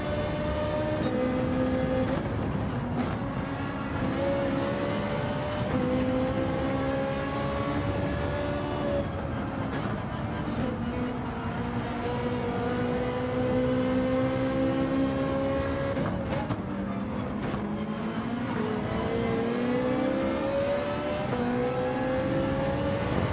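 A Ferrari Gr.3 race car screams through the gears in Gran Turismo 7 at Fuji, its high engine note rising and falling steadily, with gear-change dips and a continuous loud drone.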